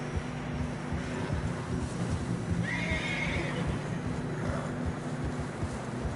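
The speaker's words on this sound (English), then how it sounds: "Horses are struggling." Horses in the Red Dead Redemption 2 game trudge through deep fresh snow on a narrow trail, one whinnying clearly midway over a steady dense bed of hoof and movement noise.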